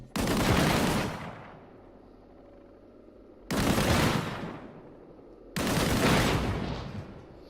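Shots fired at a barrel in a video game: three loud, heavy blasts spaced a few seconds apart, each a broad roar that decays slowly into a low rumble.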